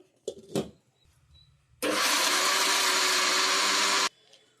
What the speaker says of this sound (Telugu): మళ్ళీ ఒకసారి మిక్సీ పట్టుకుందామండి.